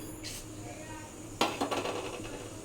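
Fenugreek and black cumin seeds tipped into hot oil for a homemade hair oil: a quick rattling patter early on, then a louder clatter of falling seeds and light clinks over a quiet background.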